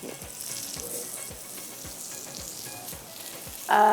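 A square paratha fries in a hot pan with a constant sizzle, punctuated by regular soft taps of a spatula, ending in a louder scraping burst.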